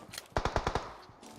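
A short burst of automatic gunfire from PUBG Mobile, about five rapid, sharp shots in a tight rhythm, fairly close and loud, with no talk over it.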